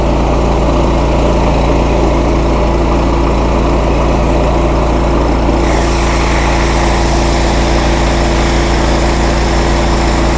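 A petrol-engine pressure cleaner runs with a surface-cleaner attachment, giving a loud, constant low engine drone and a hissing water spray, with the hiss brightening partway through. It is close and continuous, with no talking.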